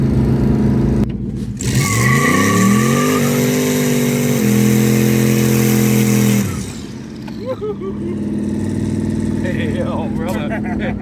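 A Chevrolet S10 truck with a turbocharged Gen 5 6.2L V8, a 3-speed transmission and 3.73 gears, accelerating hard through the gears on a street. A loud, rising engine drone and turbo whine hold, then drop off as it lifts, with voices talking over it.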